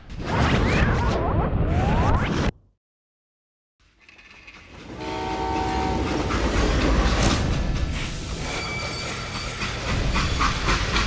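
A train in the video game Call of Juarez: Gunslinger rumbles with rhythmic clatter and a sustained horn-like tone, loud and close, broken by a brief stretch of silence early on.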